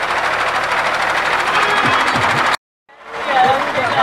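A heavy tractor engine drones and labours loudly during a tractor power test, cutting out briefly for a moment before roaring back with a rough, thumping rhythm.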